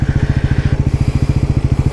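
A 2024 Bajaj NS400z engine downshifting for a U-turn, heard close up as a steady, rapid train of deep exhaust thumps with an even rhythm throughout.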